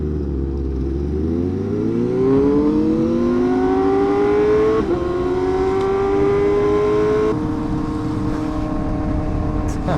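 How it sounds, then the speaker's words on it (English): A Porsche 992 sports car accelerates through its gears, its engine note rising in pitch, dropping at each shift and climbing again, loud and close amid street noise at a busy Fourth of July beach. "Porsche 992."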